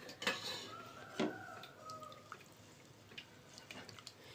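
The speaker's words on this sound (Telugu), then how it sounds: "ఇప్పుడు నేను మూత పెట్టేస్తున్నాను" A metal lid clanks onto a pot of meal maker biryani rice on a medium flame, with a couple of sharp clinks, a short ringing tone and a few lighter taps afterwards, fairly quiet overall.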